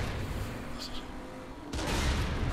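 Ship cannons fire in the Saints Row video game, a broad, loud booming blast that kicks in sharply near the end over a rumbling low backdrop, with voices talking earlier.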